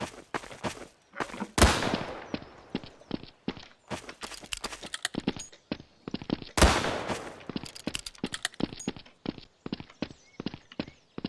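Flare gun fired in Garry's Mod: two loud bursty shots with rushing tails, spaced about five seconds apart, over a steady run of quick clicking footsteps.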